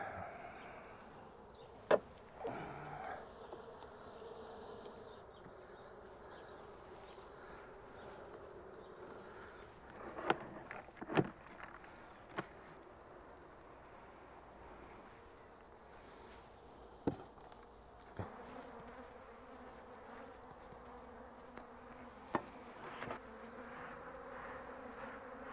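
Honey bees buzz around a six-frame nucleus hive on double brood, a steady low drone with a few soft knocks and handling taps, close and without talk.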